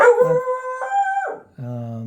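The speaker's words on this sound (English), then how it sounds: "And that's my dog" A pet dog howls in a drawn-out, wavering cry in a home studio, with a brief yip partway through and a steady final howl, loud and close, with no talking.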